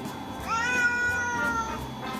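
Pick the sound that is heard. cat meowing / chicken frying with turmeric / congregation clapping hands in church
cat meowing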